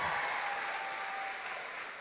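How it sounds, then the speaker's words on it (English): Steady applause from a crowd, dense clapping that fills the room and holds at an even level throughout. "So let's start by giving Andy another big, huge round of applause for being here"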